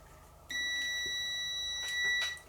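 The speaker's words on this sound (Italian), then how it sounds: "mettete il tester in modalità, diciamo, che suona, modalità beep" A multimeter's continuity-test beep sounds steadily for about two seconds, thin and high-pitched, over a quiet background.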